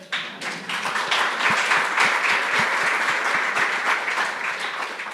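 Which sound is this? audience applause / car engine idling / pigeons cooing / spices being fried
audience applause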